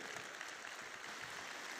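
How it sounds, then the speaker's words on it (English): Audience applause in a large conference hall during the main-stage session of a technology conference, a steady dense wash of clapping that stays even and fairly distant throughout, with no voices above it. "Let's give a bigger round of applause for Kurt from the Electronic Frontier Founda"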